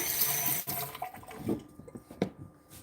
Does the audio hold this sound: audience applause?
no